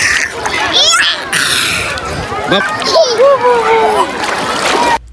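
Water splashes near at hand as people swim, with a voice and other voices rising over steady splashing and churning.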